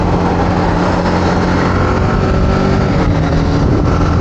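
Engine of a 2023 BMW G 310GS motorcycle while riding, a loud, steady, low throbbing drone with wind noise, heard close and continuous with no talk.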